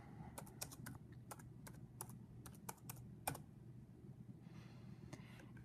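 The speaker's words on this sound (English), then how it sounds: "I'm just going to open up another tab next to the article and then type in Natural Society" Quick bursts of typing on a computer keyboard, sharp close clicks in an uneven rhythm, then quieter scattered taps in a calm room.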